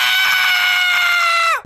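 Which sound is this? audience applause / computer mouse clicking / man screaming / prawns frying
man screaming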